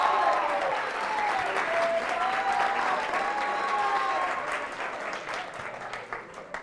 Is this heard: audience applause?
yes